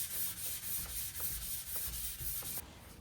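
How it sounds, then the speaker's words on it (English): Steady rhythmic scraping of a sanding pad rubbed back and forth over the top of an antique wooden buffet, close up, with no voices, stopping just before the end. "I grabbed a sanding pad and I just sanded down the top"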